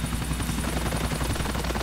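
A helicopter's rotor in the video game GTA thumps in a fast, steady pulse with a constant mechanical drone, loud and close, with no talking.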